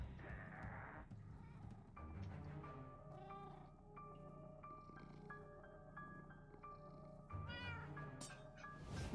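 Cat meowing in the video game Minecraft Story Mode, several distinct drawn-out meows repeating through the stretch over a steady backdrop of game music and ambience.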